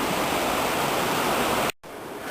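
A river in autumn Okutama, Tokyo, rushes over rocks in a steady, loud broadband roar that cuts out abruptly near the end, returning as a softer wash.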